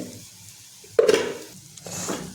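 A short scraping stir of turmeric and chili powder in a frying pan for an okra and egg stir-fry, with a faint sizzle, one louder swipe midway and another softer one near the end, close by.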